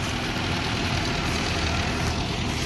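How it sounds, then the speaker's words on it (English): A street water truck rolls past on a city street, its heavy engine rumbling steadily at close range with broadband hissing noise throughout. "oh, here's the water truck again"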